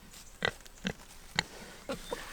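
Pigs on an Australian homestead grunting close by, five short snorting grunts at uneven intervals over a steady outdoor background.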